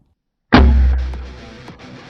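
An M79 Thumper 40mm grenade launcher fires once, a single sudden close boom followed by a decaying rumble and faint clatter, with no voices.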